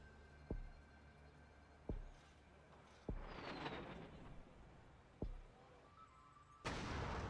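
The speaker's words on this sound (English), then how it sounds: "Really? Airstrike in a city?" Airstrike explosions hitting a city in the strategy game Rebel Inc: five sharp, heavy booms at irregular intervals, each with a rumbling tail, the middle one trailing into a longer crackling roar.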